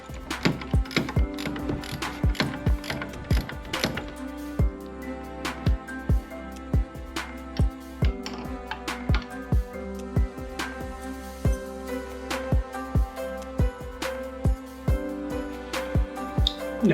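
A ratchet with a 14 mm socket tightens bolts on an ARB compressor mount under the hood of a 2018 Jeep JKU Rubicon, giving steady rhythmic clicking strokes throughout, close and clear over a constant low hum, with no talking.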